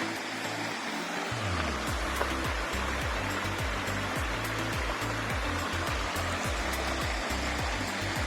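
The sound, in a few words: small mountain stream flowing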